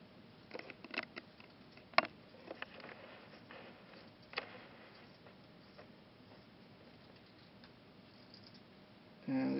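Dry scraping and light ticking as a blade shaves wood from a pencil while it is turned toward the lead, soft repeated strokes close by with one sharper click, faint and intermittent.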